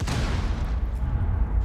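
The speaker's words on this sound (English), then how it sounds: "Explosions going off." Explosions rumble during a professional Rainbow Six Siege match, a dense, loud, continuous low roar and crackle of blasts and gunfire filling the moment without any talk.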